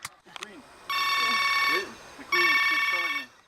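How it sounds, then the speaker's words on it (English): A telephone rings in two long electronic bursts with a pause between them, loud and close, while people talk in the background in a building in Hamhung, North Korea. "the phone kept ringing for quite some time"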